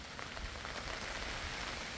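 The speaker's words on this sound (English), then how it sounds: "We have little rain." Light rain falling outdoors in Jamaica, a steady soft patter of drops on surfaces forming a continuous hiss with no voices.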